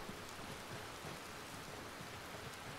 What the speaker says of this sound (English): No one likes rain in a video game.